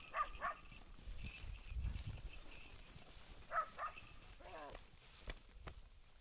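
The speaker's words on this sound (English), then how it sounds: "You're barking at the car." A dog barks at a passing car in a few short, faint bursts spread across a quiet outdoor scene, with occasional speech in between.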